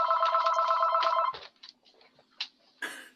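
An old-fashioned telephone rings with a bright, warbling electronic trill for about a second, then stops; scattered faint knocks and clicks follow.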